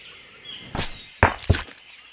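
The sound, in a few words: spiders in the video game Green Hell VR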